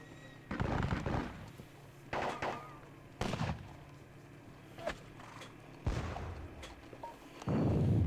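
Gunfire in the WDS Salamanca battle video game comes as separate sharp bursts and volleys, each followed by a short decaying rumble, spaced irregularly over several seconds with quieter gaps between.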